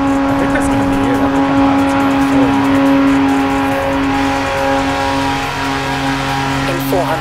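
Car engine in Forza Horizon 4 held at a steady droning rev while driving through a tunnel, loud and continuous with some tire noise and faint game sounds.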